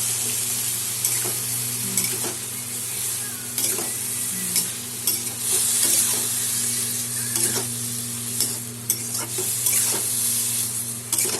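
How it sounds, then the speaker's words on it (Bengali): Ridge gourd with green chillies, turmeric and salt frying in a pan, a steady loud sizzle running throughout with repeated scraping stirs and clinks from a utensil. "দিয়ে দিলাম ঝিঙ্গা, দিলাম 1 চামচ হলুদ আর 1 চামচ লবণ।"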